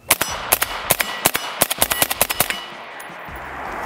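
Suppressed 5.56 rifle fire from a SCAR 16S, Sig MCX or CZ Bren 2: a quick string of about fifteen sharp, loud reports fired in rapid succession at irregular spacing, close, followed by a quieter trailing hiss.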